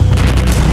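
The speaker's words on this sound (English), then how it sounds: "thousands of fireworks explode and spray the surrounding areas" A huge stockpile of fireworks going off in a blaze, a dense, continuous roar of rumbling blasts and crackling bursts with no gaps, loud throughout.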